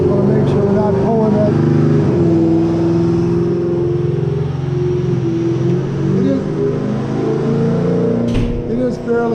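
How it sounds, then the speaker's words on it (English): A loud drag car engine idles and revs while warming up Mickey Thompson tires, with a deep, throbbing rumble that holds steady throughout, close by and dominating the scene. "Just trying to warm up the tires right now and warm up the car."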